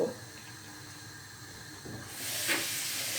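A pressure cooker on the stove, used for cooking black chana, lets out a soft, steady steam hiss that starts partway through and keeps going in a quiet kitchen.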